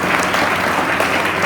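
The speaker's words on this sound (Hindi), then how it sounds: "आदरणीय पाठक सर के लिए एक बार पुनः जोरदार तालियां बजा दें सारे बच्चे" Children applaud at a school Teachers Day celebration, a dense, steady wash of many hands clapping together, loud and close throughout.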